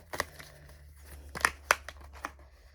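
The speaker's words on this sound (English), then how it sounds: "I prefer to shuffle them up quite a bit" Tarot cards being handled and shuffled close up, a string of sharp papery crinkles and snaps with a few louder flicks over a quiet background.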